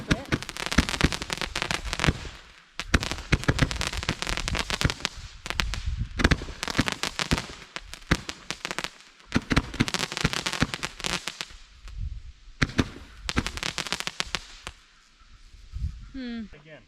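Fireworks burst in a long, dense run of loud cracks and booms, several landing close together, with people talking and reacting between and over the blasts.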